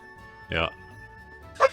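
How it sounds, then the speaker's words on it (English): Two short yappy dog barks sound a moment apart at moderate distance, over a faint background hum, with a brief spoken word. "Sorry, that's my dog, if you can hear him."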